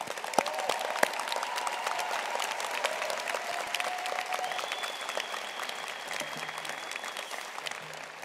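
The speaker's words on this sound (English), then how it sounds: "Will members of the platform party and our guests please join me in a well-deserved round of applause for these exceptional candidates and graduates." A large arena crowd at a college graduation ceremony gives graduates a sustained round of applause, a steady mass of clapping with faint cheers and tones drifting through, no speech on top.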